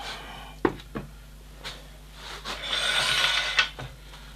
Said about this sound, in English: Right, sanding time again.